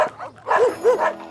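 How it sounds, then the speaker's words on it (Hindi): Several cartoon dogs bark, yip and whimper inside a building full of dogs, a quick run of close, bright barks in uneven bursts, clear and loud with no talking over them. "मैं इस वक्त कुत्तों से भरी बिल्डिंग में जा रहा हूँ"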